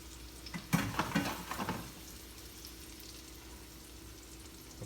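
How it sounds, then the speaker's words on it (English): Chives drop into hot brown butter in a pan, giving a brief burst of crackling sizzle that settles into a soft, steady frying hiss. "That's the noise of the chives touching that brown butter."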